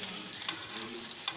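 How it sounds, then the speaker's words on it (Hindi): Methi paratha frying in ghee and butter in a pan gives a faint, steady sizzle with a couple of soft clicks over this brief stretch. "इसके बाद आप लोग घी ऐड कर दीजिए, इसमें मक्खन ऐड करना है, अगेन आप लोग कर सकते हैं। फ्राई कीजिए इसे अच्छे से दोनों साइडों से।"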